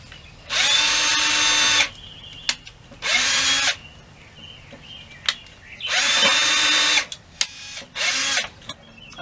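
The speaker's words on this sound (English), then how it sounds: "pre-drilled those holes" A power drill pre-drills screw holes for a box built into a van conversion, whirring in four short bursts of a second or so each, with clicks and handling knocks between them.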